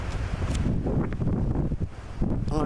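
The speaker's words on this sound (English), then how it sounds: "It is a very cold, blustery morning here today at the Jersey Shore." Blustery wind on a cold morning at the Jersey Shore roars steadily into the microphone, a dense continuous rush with gusty swells and no pause.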